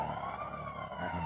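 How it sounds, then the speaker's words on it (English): An ambulance siren wails steadily in the background, a sustained tone at moderate distance that persists throughout. "I see an ambulance is coming by"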